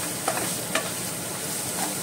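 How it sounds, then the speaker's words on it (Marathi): Chopped onion frying in a pan for a Konkani shark ambotik curry, a soft steady sizzle with a couple of faint scrapes of a spoon stirring, quiet and close with no talk. "दोन तीन मिनट फ्राई करून घेता"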